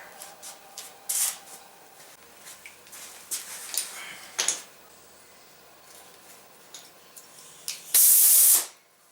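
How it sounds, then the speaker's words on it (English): Air pumped into a flat tubeless tire in short irregular hissing bursts, ending with a longer, louder rush of air near the end, all close and with no talking. "I'm going to go ahead and pump the tire, because believe it or not, it's easier to do when the tire has air."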